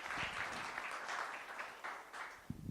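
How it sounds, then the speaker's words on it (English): Audience applause at a venture capital panel event in Silicon Valley, fairly faint and uneven, with a few louder bursts of claps toward the end. "Applause."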